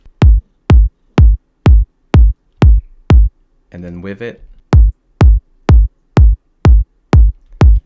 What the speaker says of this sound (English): layer the original kick sample with that really punchy sound